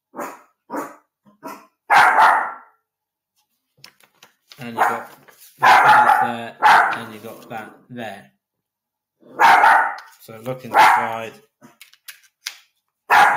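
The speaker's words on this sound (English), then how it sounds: "Sorry for the barking." Dog barking in bursts nearby during an indoor Blu-ray review, the barks mixed in with someone talking.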